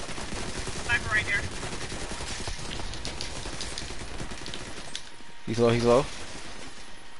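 Rapid, continuous bursts of exotic P90 submachine gun fire in The Division 2, a crackling stream of shots running through the whole stretch while a player speaks briefly over it.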